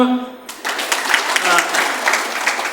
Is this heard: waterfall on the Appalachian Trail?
no